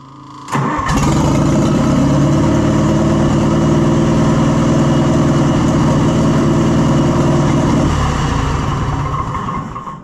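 The engine of a 1970s Gardner Denver tow-behind air compressor cranks and catches, then runs at a loud, steady, close idle with a rough low rumble that eases slightly toward the end.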